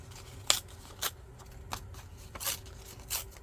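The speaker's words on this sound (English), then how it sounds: "Let's rip this up further." Paper torn by hand for a mixed media collage background, heard as a few short separate rips spaced about half a second apart, close and fairly quiet, with no talking.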